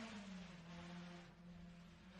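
A rally car on a forest stage in Queensland holds a steady, faint engine drone with a brief dip partway through as it shifts up a gear, then carries on at a high pitch.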